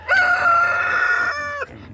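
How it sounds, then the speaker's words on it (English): A rooster among free-ranging backyard chickens lets out a single loud, close crow lasting over a second, with a rising start and a drawn-out, sliding finish. "My chickens have been enjoying coming out and free ranging."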